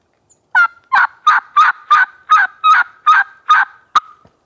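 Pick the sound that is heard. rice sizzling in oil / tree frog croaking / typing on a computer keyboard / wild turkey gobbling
wild turkey gobbling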